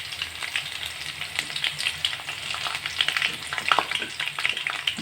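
Garlic tempering fries in hot oil, a close, continuous crackling sizzle with small sputtering pops and no talking.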